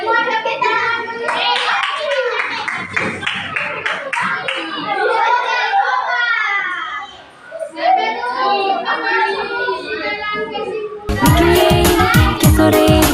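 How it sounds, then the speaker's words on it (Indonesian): An audience with children at a university teaching practice event claps, with excited children's voices and talk over the clapping, then a burst of loud, close, sharp clapping at the end. "Semua tepuk tangan dulu."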